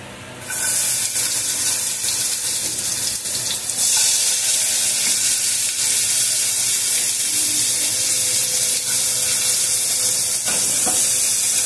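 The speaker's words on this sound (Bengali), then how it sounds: "পেঁয়াজ এবং ক্যাপসিকামটা অবশ্যই হাই ফ্লেমে সতে করে নিতে হবে।" Onion and capsicum sauté on a high flame, starting with a sudden loud hiss as they hit the hot pan, then a steady, bright sizzle that holds for several seconds with occasional scrapes.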